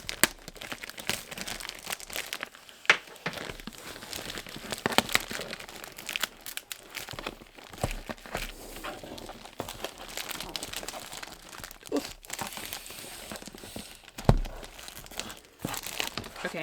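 Plastic mailing bag holding a boxed planner being handled and cut open, with continuous close crinkling and rustling and occasional sharper crackles, no talking.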